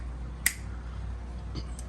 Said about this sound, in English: I'll see if I can snap my fingers